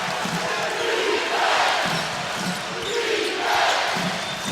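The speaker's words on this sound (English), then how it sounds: "Crowd chants" A basketball arena crowd chants in a loud rhythmic pulse of massed voices repeating every second or so, with bouncing and court noise mixed in.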